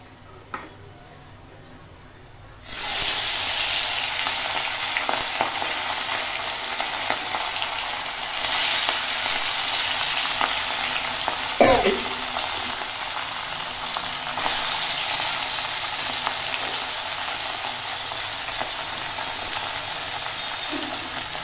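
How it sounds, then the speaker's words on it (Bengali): Fish coated in salt and turmeric hits very hot oil in a slightly scorched pan, bursting into a loud, steady sizzle that carries on evenly with occasional crackles and a brief clatter partway through. "তো এখন এই মাছগুলোকে নুন হলুদ দিয়ে ভেজে নেব।"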